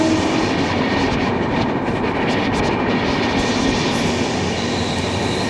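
Kerala Express rolling along the rails, a loud continuous rumble and rattle of wheels and carriages heard from on board, with steady clatter and faint squeal throughout and no voices.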